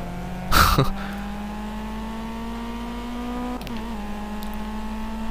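Race car engine in Project CARS holds a steady, fairly loud drone that climbs slowly in pitch, with a short harsh burst early on and a shift near the end.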